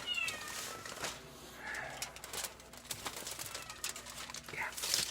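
Several small, high-pitched kitten meows come and go over a cluttered background of soft rustles, clicks and faint household noise, fairly quiet.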